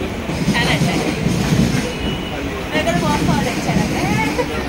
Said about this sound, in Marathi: चलो ट्रेन लागली